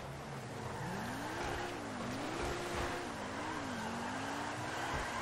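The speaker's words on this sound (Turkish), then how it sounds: "Araba bayağı güzel kayıyor" Pegassi Torero XO, a Lamborghini Countach-style sports car in GTA 5 Online, sliding on a rain-soaked road, its engine tone rising and falling steadily over a constant wet road rush.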